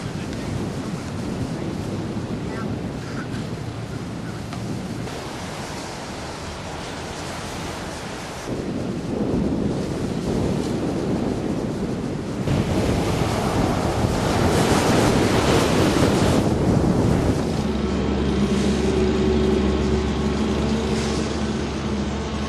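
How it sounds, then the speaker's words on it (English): Ocean surf rolls steadily at Fort Lauderdale beach with heavy wind buffeting the microphone, waves swelling louder midway, and a low engine-like hum appearing toward the end. "Next morning we got up and went down to the beach area of Fort Lauderdale"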